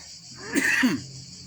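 A short rough cough, two quick harsh bursts close to the microphone, in an otherwise quiet space.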